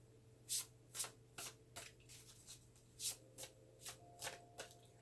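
A deck of tarot cards is shuffled by hand up close, giving a quick run of soft riffling slaps and rustles in an uneven rhythm, quiet and with no voices.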